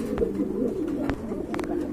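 Jacobin pigeons coo close by in a continuous low, throaty burble, broken by a few sharp taps and rustles.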